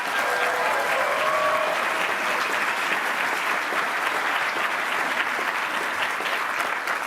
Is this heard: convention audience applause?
yes